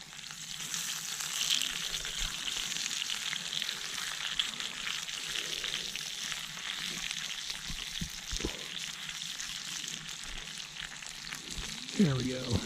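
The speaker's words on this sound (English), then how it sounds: "while our onions are caramelizing" Onions frying in a pan at a forest campsite, a steady soft sizzle running throughout at moderate distance, with a few faint knocks and a brief louder rustle near the end.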